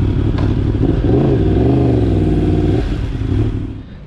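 A motorcycle engine runs close by as the rider pulls up at home, a loud, rough mid-pitched drone with a brief rising rev in the middle before it winds down and fades.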